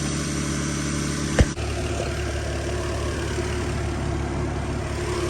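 A Nissan S13 fitted with a 2JZ-GE engine idles steadily with a low, even drone, broken once by a brief sharp knock or click early on.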